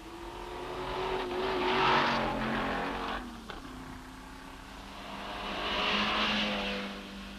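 Porsche and Ferrari racing cars at the 1964 Tour de France automobile event roar past in two swelling passes, engine notes rising and fading with a sharp blip between them, loud and fairly close, with no talking.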